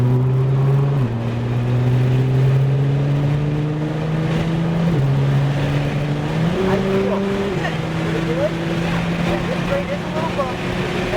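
A Nissan GT-R engine drones steadily as the car accelerates on a track, its pitch stepping up through gear changes and dropping at each shift, loud and close with a voice speaking over it.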